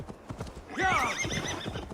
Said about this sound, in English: Phobos! That was the horse's name from, Odyssey.